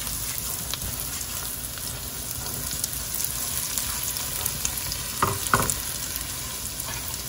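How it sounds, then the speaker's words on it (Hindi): Sliced onions sizzle in a pan over low heat for a meatball curry, giving a steady, dense crackling hiss throughout, with a couple of brief stirring clicks near the end. "मैंने इसको लो पे किया और इसमें ये प्याज डाली मैंने।"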